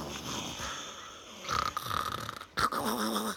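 A storyteller's voice imitates a bear snoring, making a few close, rumbling, breathy snorts in uneven bursts, without words.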